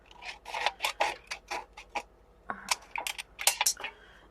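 Snips cut through a small piece of thick metal tin with a rapid series of crisp, close snipping crunches in an uneven rhythm, with nobody speaking.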